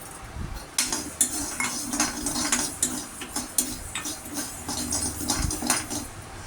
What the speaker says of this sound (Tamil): நம்ம சாப்பாடு புழுங்கல் அரிசி இருக்குல்ல, அது ஒரு 50 கிராம் அதை நம்ம வறுத்துக்கலாம்.